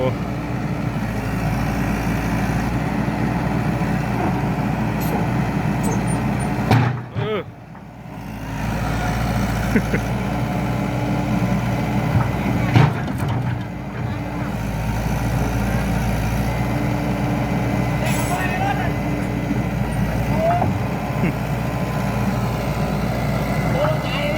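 A Hitachi EX120-2 excavator driving down off a trailer, its diesel engine rumbling loud and steady throughout with a few clanking thuds, while someone talks over it.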